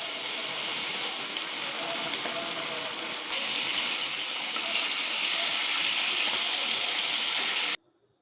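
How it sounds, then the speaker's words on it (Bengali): Shing fish frying in hot oil in a covered pan over medium heat, a steady, dense broadband sizzle that holds evenly throughout and then cuts off abruptly near the end. "তেল ভালো করে গরম হয়ে এলে এবার মাছগুলো দিয়ে মাঝারি আঁচে ঢেকে ভেজে নিচ্ছি"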